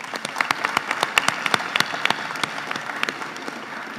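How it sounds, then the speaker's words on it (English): At a high school senior awards ceremony, an audience applauds the coaches: a moderate crowd clapping with distinct sharp individual claps standing out over a steady bed of hands, lasting the full stretch. "So how about a round of applause for these coaches?"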